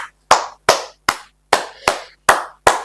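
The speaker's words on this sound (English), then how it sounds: "Give a round of applause." Eight crisp, evenly spaced claps, close and loud, with a short ring after each, in a sparse round of applause on a talk show, no voices over them.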